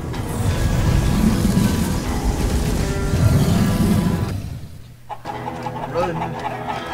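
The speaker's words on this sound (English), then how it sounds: "Out of my way, chickens!" Chickens cluck in the video game Minecraft Story Mode, loud busy flock sounds under a dense game soundtrack that drops away midway, leaving sparser clucks and effects.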